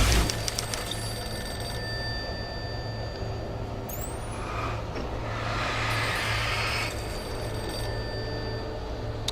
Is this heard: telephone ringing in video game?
yes